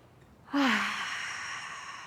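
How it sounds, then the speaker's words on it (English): A single audible breath released through the mouth during a prenatal yoga session, a soft voiced onset sliding into a long airy exhale that fades slowly, close and alone. "And release the breath through the mouth."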